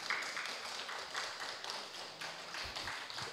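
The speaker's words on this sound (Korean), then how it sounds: "박수 부탁드립니다" Congregation clapping in a church service as a guest is welcomed forward, a steady dense patter of many hands held at an even level throughout.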